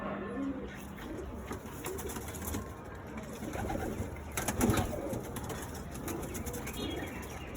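Pigeons in a Madras pigeon loft coo softly and repeatedly amid a steady background hum, with a brief flutter of activity near the middle.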